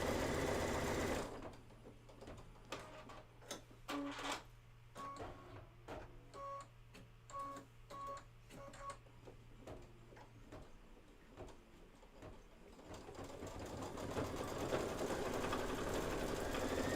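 A sewing machine stitches steadily at close range, a fast even mechanical whir with rhythmic ticking, running alone for about ten seconds before fading into a broader hum.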